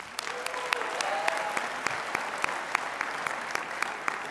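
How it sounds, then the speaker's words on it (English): Steady applause from a large convention audience at an opening general session, a continuous dense clatter of hands with a few sharper claps popping out, no talking over it. "Let's give her another round of applause."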